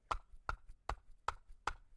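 Five evenly spaced knocks of fired bricks striking together, each a short, ringing, pottery-like clink, quiet and close.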